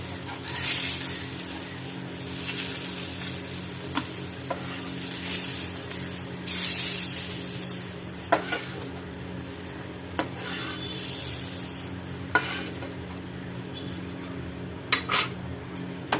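Brinjal pieces fry in oil in a pan with a soft steady sizzle, punctuated by scattered metallic clinks and scrapes of a spoon against the pan over several seconds, with no talking.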